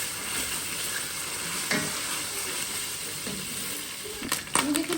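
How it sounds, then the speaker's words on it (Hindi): Onions frying in a pan with garlic and ginger paste, a steady sizzle with scattered stirring scrapes and a few louder clanks of a utensil near the end, no voices. "ये देखिए प्याज हमारा अच्छी तरह से फ्राई हो चुका है"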